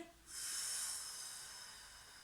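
A long, steady exhale during a sophrology relaxation exercise, an airy hiss that begins softly, swells, then slowly fades, close and alone without talk.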